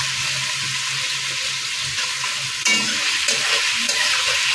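Vegetables, capsicum among them, frying and being stirred in a pan for Bengali-style fried rice: a steady close sizzle with scraping stir strokes, then a louder burst of hissing midway; no voices.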